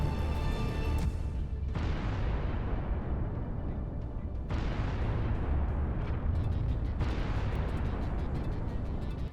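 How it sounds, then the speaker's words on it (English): A Ukrainian HIMARS shell strikes a Russian missile system, heard as a series of heavy, rumbling blasts with long decaying roars that overlap and keep the sound dense and loud throughout. "a few minutes later, a shell from a Ukrainian HIMARS hit it"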